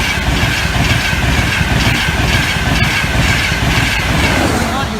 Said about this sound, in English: Yeah, it is train 2 approaching now.